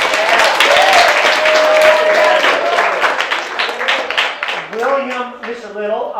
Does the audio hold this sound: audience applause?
yes